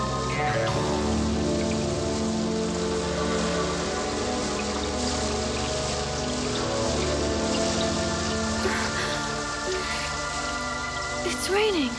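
Steady rain pours through dark woods as a dense, constant hiss of drops on leaves and ground, loud and close, with layered music and sustained tones running beneath it throughout.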